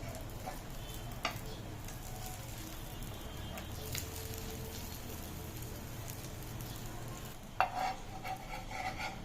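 Bread omelette sides browning in a pan over a low flame, giving a faint, steady sizzle with a few clinks and scrapes of a utensil near the end.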